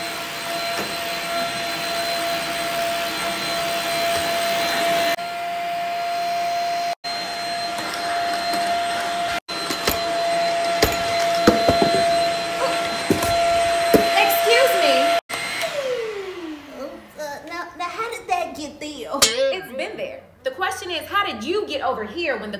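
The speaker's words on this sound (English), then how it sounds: "I guess I'll vacuum first" A household vacuum cleaner runs with a steady, loud whine and roar that continues for a long stretch. Near the end the motor winds down and stops, and people talk afterward.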